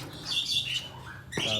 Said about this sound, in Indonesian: Ayo, burung srindit.